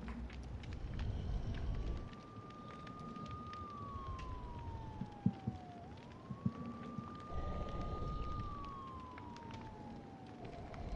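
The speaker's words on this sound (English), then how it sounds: "Why is there sirens in a forest?" A police siren wails through a forest in a horror video game, its tone rising and sweeping down in long glides over a low rumbling ambience, with a few sharp thuds partway through.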